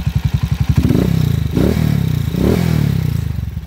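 A TMX155 motorcycle engine runs close by, opening with a rapid, even chugging pulse before settling into a loud, steady rumble with a heavier surge partway through; no voices.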